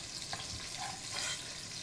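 Pot roast vegetables sizzle softly in a pot, a low steady frying hiss with faint bubbling, close but quiet and continuous for a brief moment.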